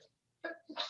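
A single person sneezes in a classroom during a physics lesson, a quick two-part burst of breath, close and moderately loud, with no talk over it.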